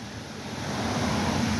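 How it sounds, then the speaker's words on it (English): Unfrozen water moves past a stone dam in winter, a steady broad rushing wash like surf, loud and continuous, swelling slightly over the short stretch with no voices. "You see how this water is moving? That water is not frozen at all"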